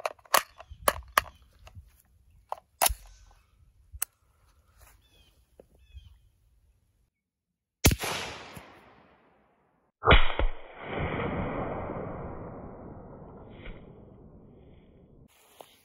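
An RF-15 budget rifle firing at a Diet Pepsi can outdoors, preceded by clicks and handling knocks, then two sharp loud cracks several seconds apart, each trailing into a long fading echo.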